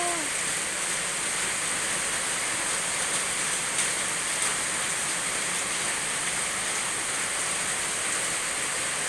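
Heavy rain pours down outdoors in a steady, dense roar that stays constant and fairly loud throughout, with no pauses and no voices.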